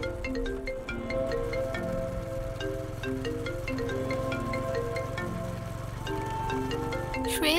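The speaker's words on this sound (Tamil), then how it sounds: "ஃபோன் எடுத்து யாருன்னு பாரு." A mobile phone rings during a Tamil drama scene, a looping melodic ringtone playing steadily and fairly loud for several seconds over a low background hum, with no talk.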